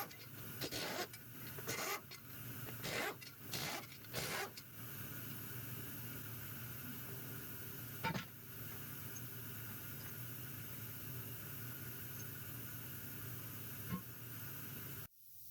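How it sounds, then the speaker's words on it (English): A power wire wheel scrubbing wheel bolts from a 1950 Ford 8N tractor, loud and close, with several abrupt on-off bursts of harsh bristly grinding at first, then a long steady abrasive whir. "Wire wheeled all the bolts."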